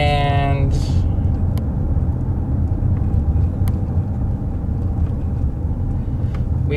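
Inside a Waymo self-driving car on the move, a steady deep road and engine rumble fills the cabin, with a brief electronic chime at the start.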